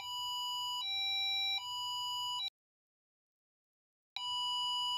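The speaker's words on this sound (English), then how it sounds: "As the sensor is flooded, alarm immediately sounds." An Arduino flood sensor alarm beeps loudly and steadily as water floods the sensor. The electronic tone shifts pitch midway, cuts out for nearly two seconds, then resumes close and alone.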